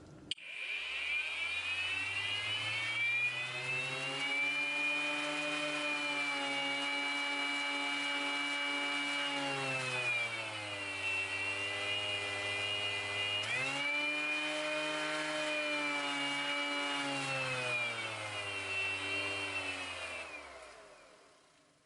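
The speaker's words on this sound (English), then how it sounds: "When it turns on, you can then set it, and you'll hear now the different speeds." An Excel 18V cordless rotary sander, 125mm model 11237, whines steadily close by, its pitch shifting down and back up as it is switched between its three speeds, with no talking.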